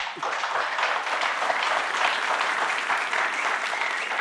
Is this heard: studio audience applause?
yes